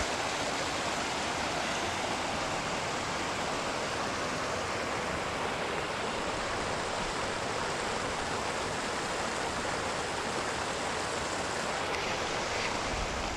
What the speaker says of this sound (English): So this is Rock Creek.